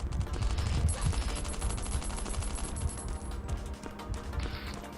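Rapid sustained gunfire in the survival game Last Island of Survival, a dense loud stream of overlapping shots filling the whole stretch with no talking.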